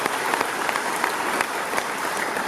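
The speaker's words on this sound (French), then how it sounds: "Acclamons très fort pour ce Jésus." A congregation at a thanksgiving memorial mass in Brazzaville claps together for Jesus, giving a brief burst of steady, dense applause from a crowd filling the space.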